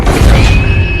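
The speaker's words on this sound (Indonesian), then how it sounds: "hiu megalodon itu menggigit kaca pembatas, namun beruntungnya kaca tersebut hanya retak" Film effect of a megalodon shark biting an aquarium's glass barrier and cracking it: a loud, close, heavy crashing thud with rumbling low end and a thin ringing tone lingering after.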